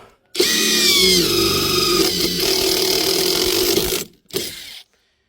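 A cordless impact driver drilling into metal whirs loudly and steadily for about four seconds, stops, then gives a short second burst before going quiet.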